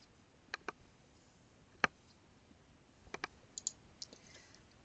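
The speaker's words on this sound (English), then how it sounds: "Clicking on that icon will open the article in full text form." Sparse, faint computer mouse clicks, some single and some in quick pairs, spaced irregularly over a quiet background.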